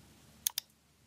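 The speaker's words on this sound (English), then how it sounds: "We create the first column by clicking the previously created nodes one by one." Two quick, crisp computer mouse clicks in close succession while selecting nodes in RFEM 6 structural software, near and isolated against a quiet background.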